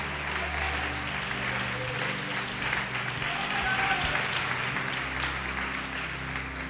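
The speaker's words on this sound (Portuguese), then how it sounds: "Você pode aplaudir o Senhor por isso?" A church congregation at a Portuguese-language service applauds, a steady wash of clapping and crowd noise at moderate level with voices mixed underneath throughout.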